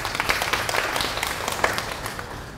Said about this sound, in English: So please, another warm round of applause.